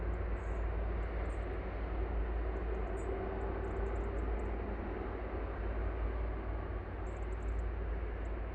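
Aircraft slowly taxiing off the runway at Manchester Airport, a faint, continuous engine hum and low rumble at a distance, steady throughout with some light wind-like hiss.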